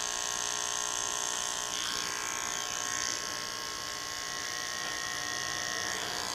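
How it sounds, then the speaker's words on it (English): An electric T-trimmer hair clipper buzzes continuously and close while cutting curly hair along a hairline for a pompadour haircut, with a steady high whine whose tone shifts slightly as it moves through the hair. "So I'm working with the trimmer backwards."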